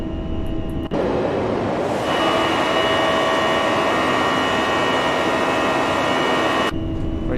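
Airbus A340-300 engines at takeoff power in the X-Plane 12 flight simulator give a steady, loud, broad roar with a whining tone that swells in after a quieter start, then drops away at the end.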